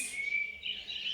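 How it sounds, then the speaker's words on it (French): Bright, high chirping birdsong with thin tweets, continuous and fairly soft, no voices present. "tu entends le chant des oiseaux?"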